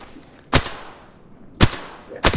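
Three sharp single shots from a video game weapon, about a second apart, each a loud broadband crack with a brief tail, over a quiet background.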